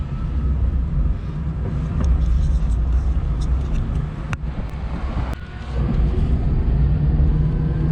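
An electric Fiat 126p Maluch on a test drive gives a steady, loud in-car rumble with wind buffeting the microphone, broken by a few sharp knocks and a short dip in the drone.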